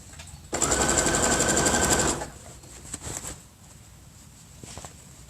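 A domestic sewing machine runs in one steady, fast-stitching burst of about a second and a half while hemming a tote bag, then stops, followed by a few quieter handling taps and rustles of fabric.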